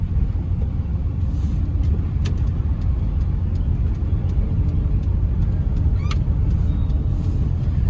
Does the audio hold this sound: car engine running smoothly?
yes